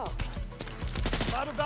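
Several sharp gunshots in the video game First Light crack out in quick irregular succession, close and punchy, mixed with in-game voice sounds.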